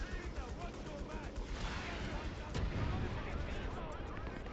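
A tank's main gun fires in Company of Heroes 3 amid a continuous mix of battlefield gunfire and rumbling explosions, with one sharper report standing out partway through the din.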